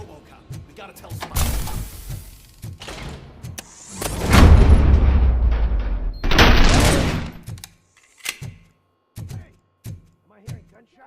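Scattered gunshots and thuds in the video game RoboCop: Rogue City give way to heavy sustained automatic fire with booming blasts, then a few more spaced shots.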